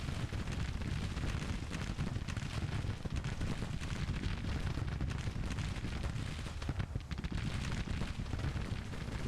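Artillery cannons keep up a bombardment along the lines in the Civil War strategy game Grand Tactician, a continuous, far-off rolling rumble of overlapping booms, fairly quiet and unbroken throughout.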